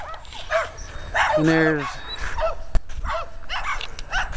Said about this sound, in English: There's the doggies. That little one's a dog. There's another doggy.